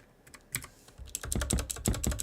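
Fingers tap on a computer keyboard entering a password, a few scattered clicks at first, then a quick steady run of keystrokes, close and fairly quiet.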